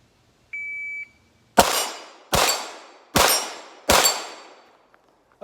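Shot timer beep followed by four Glock 34 shots, fitted with a Trijicon RMR, ringing off a steel target: one steady electronic tone, then four loud cracks with clanging decay at an even rhythm, close by, with no talking.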